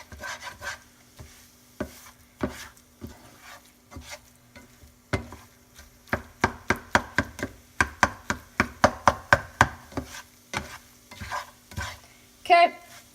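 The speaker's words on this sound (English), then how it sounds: "now it's time to add the onions" Onions stirred into scrambled eggs in a frying pan: a steady series of sharp utensil scrapes and taps against the pan, speeding into a quick rhythmic run midway, over a low sizzle, with no talking.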